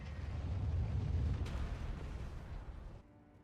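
Cannon firing in Elden Ring: a heavy, rumbling blast with a sustained low roar that fades, then a sharp crack partway through before it cuts off.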